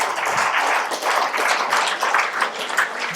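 An audience gives a dense, steady round of clapping for a 17-year-old mimicry artist at a Madurai show, loud and continuous with no voices over it.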